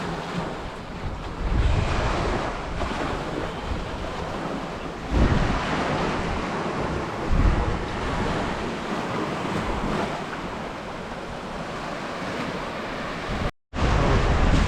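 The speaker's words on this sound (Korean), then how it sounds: "지금 바람이 많이 불어서 쌀쌀해요" Strong wind buffets the microphone at the seaside in Moalboal, Philippines, a dense continuous roar mixed with surf, loud and steady with gusts, briefly cutting out near the end.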